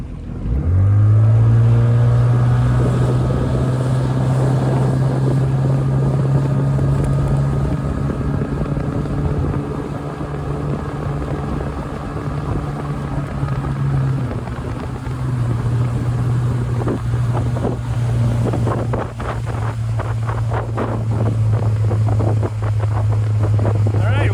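A 1969 Glasspar Tacoma 14 motorboat makes a full-throttle speed run, its steady loud engine drone holding for most of the run with a brief dip midway, mixed with strong wind and water rush.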